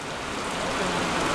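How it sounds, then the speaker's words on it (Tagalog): Steady rain falls as a dense, even hiss of drops on surfaces, close and continuous throughout. "2 araw hindi umulan, tapos ngayon umulan naman."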